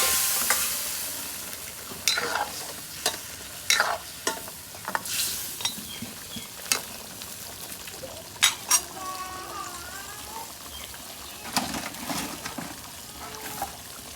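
Prawns sautéing with spices in a hot pan, the steady sizzle broken by repeated sharp scrapes and clacks of a spoon stirring against the metal, with no talking.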